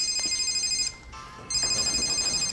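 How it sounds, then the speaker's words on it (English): A new phone's ringtone sounds loud and close in two bright electronic bursts with a short gap between them, in a quiet indoor scene. "Sorry, new phone. Switching to vibrate."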